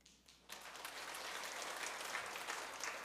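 A church congregation applauds warmly to welcome new members at a worship service, a steady wash of many hands clapping that starts suddenly and continues evenly, heard faintly at a distance.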